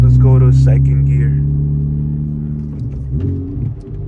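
A Honda Civic Type R FL5 is heard from inside the cabin with a loud, steady engine drone. The engine pitch slides down and then gives a short rev blip during a downshift to second gear, with faint talk at the start.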